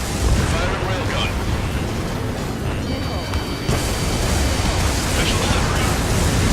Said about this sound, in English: Firing railgun.